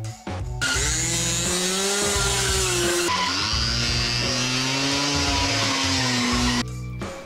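A 50cc two-stroke machine drifts with the engine screaming near full throttle while its tires skid and squeal. The sound is loud and continuous, with a brief shift in pitch partway through and no talk.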